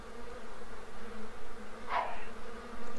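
An angry swarm of bees buzzes in The Sims 3, a steady close insect hum pulsing in waves with a brief brighter burst partway through.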